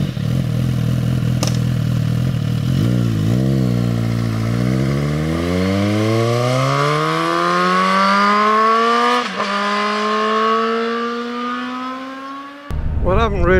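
A Suzuki GSX S1000 GT motorcycle on an evening ride accelerates hard, its engine note climbing steadily through the gears with brief dips at each shift, loud and close over wind rush.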